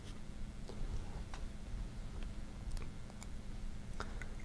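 A Pilot E95s fountain pen with a fine nib writes on paper, giving faint, close scratchy strokes and light ticks scattered over a low steady hum.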